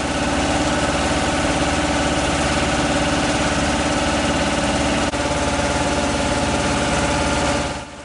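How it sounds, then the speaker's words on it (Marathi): Motorboat engines drone steadily and loudly across the brimming Koyna reservoir in Satara, a continuous close mechanical hum with a faint knocking vibration that fades slightly at the end. "आवाज फक्त बोटींच्या मोटारींचा।"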